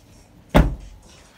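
A single sharp thud of the driver's side door of a 2017 Vauxhall Zafira Tourer, short and fairly loud, fading quickly into quiet.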